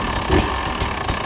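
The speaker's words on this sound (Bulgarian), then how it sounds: "Ако само малко ще си загрея мотора." A motor warms up with a steady, rough low rumble and faint periodic pulses, close and fairly loud, with no talking.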